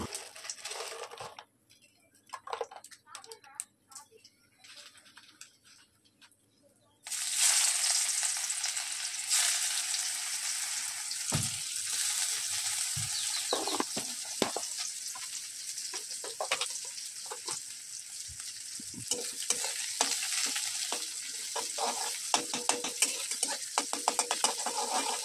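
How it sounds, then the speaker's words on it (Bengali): Chopped onion hits hot oil spiced with bay leaf and cumin for a pumpkin curry, bursting into a loud continuous sizzle after quiet clinks, with scraping stirs and small taps over the steady frying. "পেঁয়াজটা লালচে করে ভেজে নিতে হবে।"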